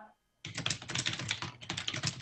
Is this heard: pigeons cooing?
no